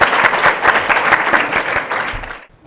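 Studio audience applauding at a children's TV quiz show, dense steady clapping throughout that cuts off abruptly near the end.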